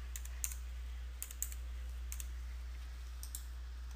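Typing a zip code on a computer keyboard while filling out a permit application: a few light, sparse key clicks in small clusters over a steady low electrical hum, fairly faint and without speech.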